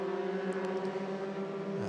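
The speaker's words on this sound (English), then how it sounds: "So try and get used to this sound of the Spieth engine while you can" A Euroformula Open race car with a Spiess engine gives a steady, loud, high-pitched engine drone for about two seconds, heard at a distance with no talking.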